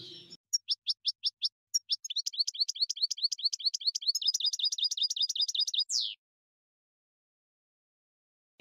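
A goldfinch sings close and clear, a bright run of rapid repeated chirps and trills, first in short separated bursts and then in a dense, quickening sequence that stops abruptly, followed by silence.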